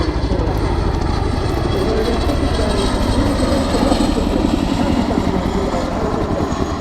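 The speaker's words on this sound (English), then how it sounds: "the Chinook will now reposition to provide overwatch for the troops on the ground" A Boeing Chinook helicopter flies at the RIAT air show, its deep twin-rotor thudding loud and continuous with a rapid rhythmic beat throughout.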